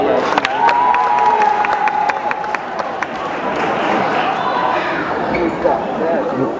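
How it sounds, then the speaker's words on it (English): A large graduation crowd shouts and cheers loudly and steadily throughout, with scattered claps and whistles rising from the noise and voices mixed in. "A lot of people shouting. I told y'all there was going to be crowd."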